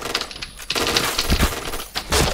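Rapid bursts of automatic gunfire in an online shooter game, loud and close, in dense rattling volleys with brief pauses between them.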